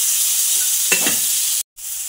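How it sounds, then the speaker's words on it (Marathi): Tomatoes fry in oil in a pan with a constant hissing sizzle, one short stir or scrape partway through, and then an abrupt brief cut to silence before the sizzle returns. "आता आपण टोमॅटो 2 ते 3 मिनिट भाजून घेऊया।"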